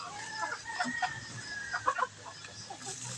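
Chickens clucking softly at morning feeding time while eating cracked corn, scattered quiet clucks and a few sharper calls, fairly faint and close, with a voice briefly audible in the background.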